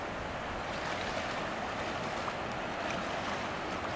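Rapids on the upper Broad River in Cherokee County, above Cherokee Falls, give a steady, dense rush of flowing water that holds even and unbroken throughout, with no voices.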